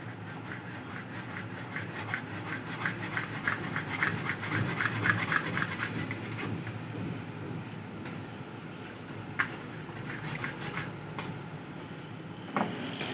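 Flour is worked through a metal strainer for nihari, giving a continuous soft rubbing, scratching sound with a rough rhythm, close and fairly quiet, then a few faint taps.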